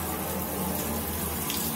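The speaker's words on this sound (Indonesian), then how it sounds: "Pertama-tama, hidupkan keran air." Water runs steadily from a turned-on tap at the start of a handwashing demonstration, a close, continuous gushing hiss with no pauses and no talking.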